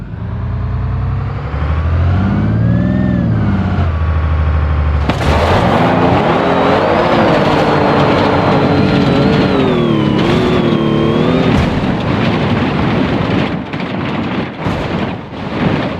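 In BeamNG Drive, a school bus engine drones and climbs in pitch, then is swallowed by a sudden loud roar of wind and rumbling debris while the engine tone whines on above it, with a few sharp bangs late on.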